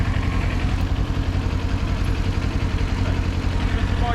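Several motorbikes idle together during riding practice, a steady low engine rumble with no breaks.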